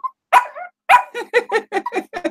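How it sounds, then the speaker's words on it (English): A puppy barks in a quick run of high, sharp yips, two longer barks and then a tight cluster of short ones, close and clear with no talking. "this is my beautiful puppy, Biscuit."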